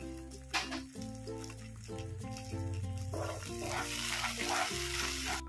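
Spices for methi matar malai sizzling in a hot pan, a steady loud frying hiss with stirring scrapes, alongside a musical background.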